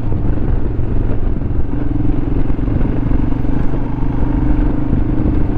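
Motorcycle engine droning steadily while riding, a loud continuous close rumble with a faint rattling clatter running through it, no voices.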